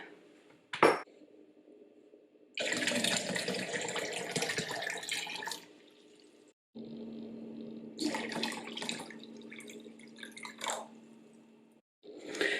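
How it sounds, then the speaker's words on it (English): Hot but not boiling water poured into a large glass container, a gushing, splashing pour in two long bursts separated by short pauses, with a brief knock of glass at the start. "fill a large either glass, vase, jug, container, something that you can stand your candles up in with some hot but not boiling water"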